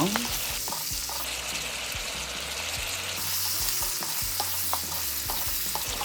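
Meat stir-frying in a hot pan for ganjjajang, a steady close sizzle with repeated scrapes and knocks of a spatula stirring throughout, no voices.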